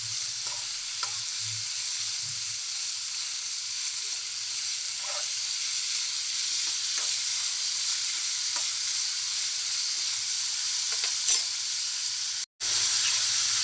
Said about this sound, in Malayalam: ഇതൊരു അര തക്കാളിയാണ്, അതുകൂടി ചേർത്ത് കൊടുക്കാം. നന്നായിട്ട് വഴറ്റിയെടുക്കുക.